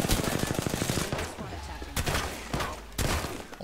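Rapid automatic gunfire in a battle royale video game, loud and close, with a fast rattling burst followed by scattered single shots and short volleys.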